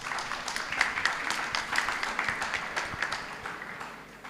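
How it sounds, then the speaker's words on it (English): At a school day event at a girls' high school in Kenya, an audience claps in scattered, moderately loud applause that gradually fades, with some voices mixed in. "Mr. Ken, you received an applause from the beautiful ladies here upon coming on the stage with your guitar"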